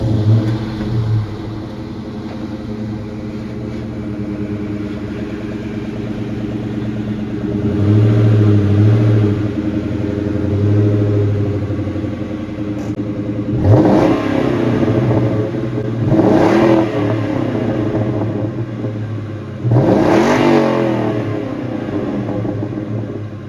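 A 2003 Ford Mustang Mach 1 with a stock mid pipe and Flowmaster mufflers idles with a deep, steady burble, then revs three times in quick succession, loud and close.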